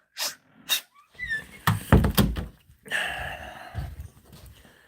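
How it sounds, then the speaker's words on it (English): Several sharp dog barks burst out in an irregular series, loud and close, with scuffing and movement noises between them. "This dog is barking my ear off."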